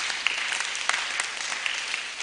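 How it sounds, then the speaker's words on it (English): An audience claps for the OLA sisters at a symposium marking 140 years of the Sisters of Our Lady of Apostles. The applause is steady and dense, with a few sharper claps standing out from the continuous patter. "Please join me as we clap for our OLA sisters"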